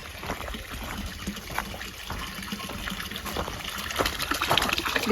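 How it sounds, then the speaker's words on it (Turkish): Water runs steadily from a village fountain built in 2004 in Kadıköy village near Kiğı, Bingöl, with a continuous close trickle and splash that swells slightly toward the end. "Evet burası da köyümüzün çeşmesi."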